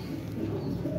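Soft, low pigeon cooing hums steadily through the whole second, close and continuous, with no voices.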